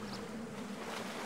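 A character splashes in water in the video game Ico HD: a brief, steady wash of watery noise with a low hum beneath, fairly quiet and with no talking.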